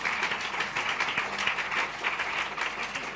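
A congregation applauding during a church service, a steady wash of many hands clapping together that keeps going at a fairly even level throughout.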